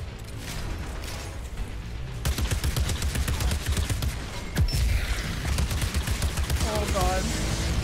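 Enemy rifle fire rattles in rapid, dense bursts during Outriders combat, a steady stream of sharp close shots that grows louder midway, with a player's brief exclamation over the din.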